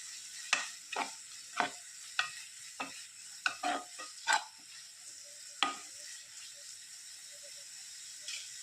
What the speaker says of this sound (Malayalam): ഇതെല്ലാം നന്നായിട്ടൊന്ന് വഴറ്റി ഇതിൻ്റെ പച്ചമുളകൊക്കെ പോകോളം നന്നായിട്ടൊന്ന് വഴറ്റി യോജിപ്പിക്കുക